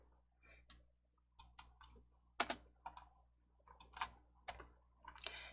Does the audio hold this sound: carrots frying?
no